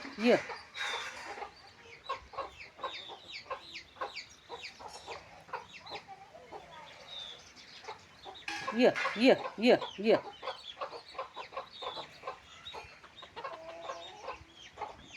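Chickens cluck softly and repeatedly, joined by a burst of louder clucking midway, while a person calls out over and over.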